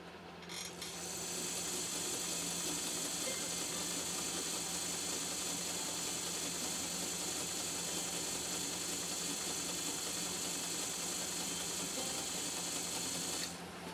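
A post-WWII Japanese Dressmaker sewing machine stitches a 3x3 zigzag, running in one long, steady, close mechanical whir with a constant stitching rhythm from start to stop, no talking over it.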